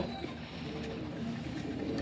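Anmol Pipla Ferozpuri pigeons coo softly and faintly at a distance, their low murmuring calls sitting under a steady background hiss.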